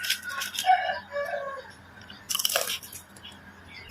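Crunchy fried potato chips with cheese being bitten, a few sharp crisp crunches close to the mic, with a louder burst of crunching near the end and quiet chewing between.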